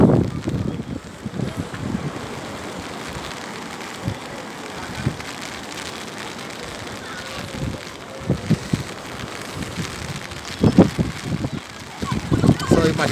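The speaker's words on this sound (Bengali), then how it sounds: "খুবই হাওয়া দিচ্ছে।" Strong wind gusts across the seashore at Old Digha at night, with rain falling: a continuous blustery rush with buffeting bursts, while a voice talks over it.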